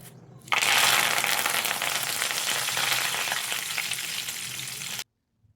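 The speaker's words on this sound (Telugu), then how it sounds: "ఇప్పుడైతే కరివేపాకయితే ఫ్రై చేసుకుందామండి" Curry leaves dropped into hot oil, bursting into a loud, dense crackling sizzle that starts suddenly, holds steady for several seconds up close, then cuts off abruptly.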